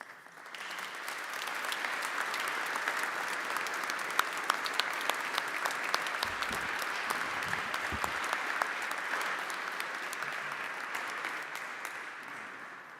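A congregation of priests and faithful gives generous applause during a Chrism Mass in church, sustained dense clapping that swells after the first second and holds steady, reverberant and even for the whole stretch.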